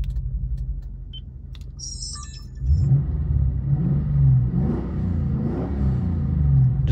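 A 2012 Lexus IS F V8 fitted with PPE catless headers and an Xforce Varex exhaust, valves closed, idles with a subdued rumble, then pulls away with a smoother, moderately loud rising exhaust tone.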